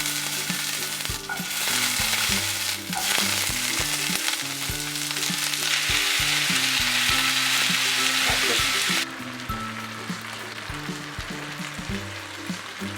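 Ingredients for momo jhol achar frying and sizzling in a pan, a steady close crackle with stirring knocks throughout, dropping a little in level toward the end.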